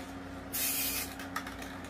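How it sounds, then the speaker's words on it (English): A single short burst from a spray paint can, a loud hiss lasting about half a second, then quieter faint hissing and a small clack. "That one sprays really heavy"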